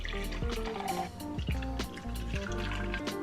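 About 200 ml of white vinegar is poured into a container for a homemade lemon cleaner, giving a steady, close trickling and gurgling with small drips and splashes and no talk.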